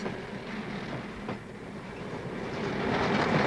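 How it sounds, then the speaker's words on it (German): Express trains rolling over the tracks at Frankfurt main station, a steady loud rumble of wheels with a faint clack, swelling slightly louder toward the end. "schon Sekunden später passieren D-Züge die gleiche Stelle"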